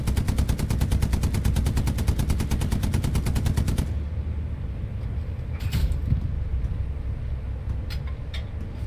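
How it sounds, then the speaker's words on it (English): Tank coaxial machine gun in Hell Let Loose fires a long, rapid, steady burst for about four seconds, then stops, leaving a low engine rumble and a few scattered distant shots. "Don't fire your main gun, just fire the coaxial."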